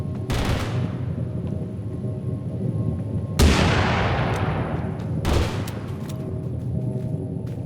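Three loud musket shots ring out in a video game, each a sharp blast whose echo decays slowly, spaced a couple of seconds apart over steady background noise.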